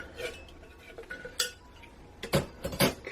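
Cold process soap batter for a tiki punch soap being stirred in a container, giving a series of close clinks and scraping knocks, with the louder strikes clustered toward the end.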